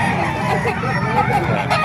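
Chickens and roosters at a busy poultry market in Calumpit, Bulacan crow and cluck loudly and continuously over a constant background babble of voices.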